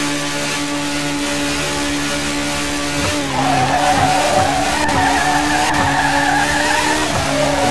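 A Honda Civic race car making a test pass in a No Limit Drag Racing video game, its engine a loud sustained drone that rises in pitch, then a gear shift drops the tone before it climbs again.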